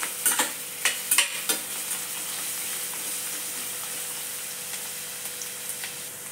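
Peanuts and grated coconut being stir-fried in a pan for kadhi khichdi, with a steady close sizzle and a few sharp scraping clicks of a spatula near the start, then a softer continuous frying hiss.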